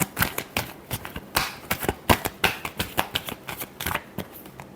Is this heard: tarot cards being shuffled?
yes